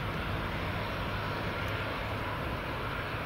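A Smartwings airliner takes off from runway 24 at Edinburgh Airport, a continuous loud broadband jet roar that holds steady throughout, heard from outdoors near the runway with no talk.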